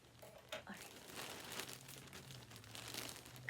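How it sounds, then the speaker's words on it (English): Plastic bag of yarn being cut open with scissors, a brief crinkling and tearing of plastic heard close up over a low hum, with soft rustling around it. "I'm gonna cut this bag open."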